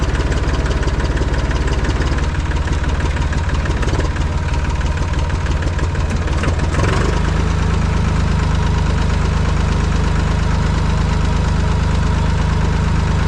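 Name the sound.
Massey Ferguson 245 tractor engine running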